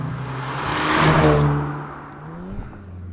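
An HPA Motorsport VW Golf R, a tuned 450 hp sleeper, accelerates hard from about 2,500 rpm, its engine note rising steadily and swelling as the turbo comes on, then fading as it pulls away.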